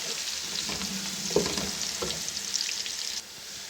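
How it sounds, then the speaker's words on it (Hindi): Soft, steady sizzle of onion and garlic frying golden in a pan, with a few light stirring scrapes, quiet and close, no voices. "ये हमारा भुन गया, देखे गोल्डन हो रहा है"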